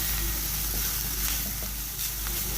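Boiled shredded chicken mixed into vegetables frying in a pan, giving a continuous close sizzle with light stirring scrapes and no talking.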